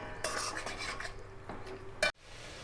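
A utensil scrapes around a pan as fried prawns are stirred into fish curry gravy, making a few quick, soft rasping strokes close up and then one sharp metallic clink near the end.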